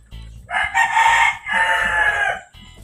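A white Kelso gamecock crows loudly and close by, two long drawn-out calls in quick succession, with faint clucking from hens before and after.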